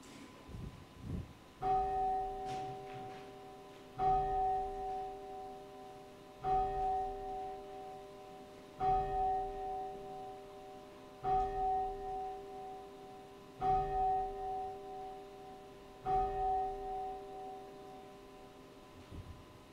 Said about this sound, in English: Then let's have a moment of silence and the ringing of the bell.